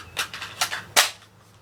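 A Bear Creek Arsenal rifle fires during a firing pin test: three short, sharp cracks in quick succession, the last the loudest, with brief ringing after each.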